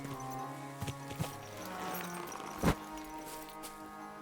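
A horse standing idle in the medieval role-playing game Kingdom Come: Deliverance 2 gives off faint hoof shuffles and a brief snort-like burst, set against soft ambient game music.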